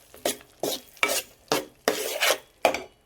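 Green peas are stirred in a pan of hot oil and masala for paneer matar, with six rhythmic scraping, sizzling strokes of a spoon, close and clear with no talk.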